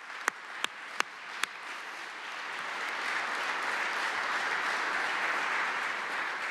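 Conference audience applauding the panelists in a Senate hall, opening with a few distinct sharp claps and swelling into steady, moderately distant applause.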